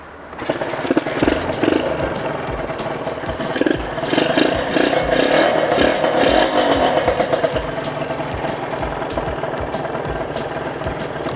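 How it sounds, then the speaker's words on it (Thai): A motorcycle engine runs steadily nearby, a rough rumbling idle with occasional revs, loud and continuous. "เอาฟังเสียงเครื่องกันเลยดีกว่านะ"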